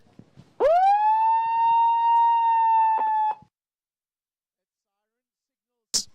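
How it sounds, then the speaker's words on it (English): A single loud siren signalling the start of a surfing contest heat wails, rising sharply and then holding a steady tone for about three seconds before cutting off, with a brief sharp burst afterward. "That siren signals the start of the next heat."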